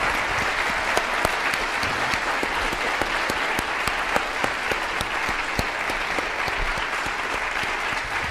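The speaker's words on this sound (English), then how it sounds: "give our two guests a great big round of applause" Steady, dense applause from a large audience at a University of North Texas event, sustained throughout with sharp individual claps standing out over the crowd.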